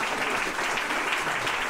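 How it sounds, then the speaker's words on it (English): Steady crowd applause fills the whole moment, dense clapping at a constant loud level with no pauses. "Let's give Tom Marina a round of applause."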